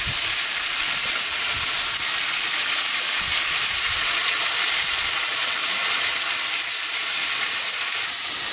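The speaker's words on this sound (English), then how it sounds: "I'm just going to let that keep sizzling until the chicken's like nearly cooked through" Marinated chicken sizzles loudly in a pan on a camping stove turned down to low, a constant close hissing fry with no talk throughout.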